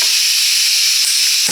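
Gas camping stove burner hissing at full power during a boil test, a loud, steady, close-up rushing hiss that runs unbroken throughout.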